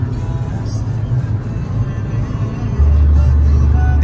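Steady road rumble and tire drone from inside a car cruising on the highway on cruise control, a constant low hum that thickens slightly toward the end, with no engine surges.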